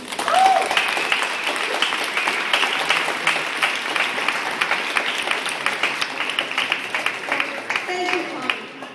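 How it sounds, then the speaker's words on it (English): A sustained, fairly loud round of applause from the audience at a university parking forum, steady throughout with a few brief voices underneath. "How about a big round of applause for Dr. Vianne Timmons?"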